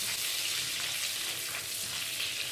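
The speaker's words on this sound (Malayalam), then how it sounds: "ഇതിനകത്തോട്ട് നമ്മൾ നല്ല ജീരകവും കായപ്പൊടി കൂടെ ഒന്നിട്ട് വഴറ്റി" Cumin and asafoetida sizzling in hot oil in a pan for a Punjabi-style shahi paneer, a steady, soft, hissing crackle with no voices.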